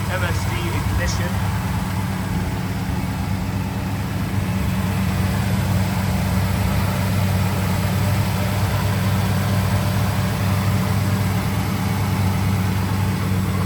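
A 1969 Pontiac GTO's 400 V8 with a Quadrajet carburetor and MSD ignition runs at a steady idle, a continuous low rumble held close and loud for the whole stretch with no break.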